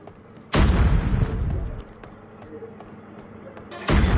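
Grenade blasts in the Scarfall battle royale game boom out loudly, one near the start with a decaying rumble and another at the end, with scattered gunfire-like cracks and faint talk in between.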